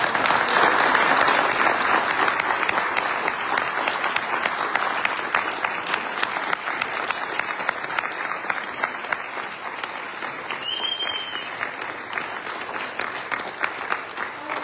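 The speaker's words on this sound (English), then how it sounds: "can we get a round of applause for all" An audience at a congressional district candidate forum applauds in a steady, dense wash of clapping that carries on for the whole stretch, loud and close with no talking over it.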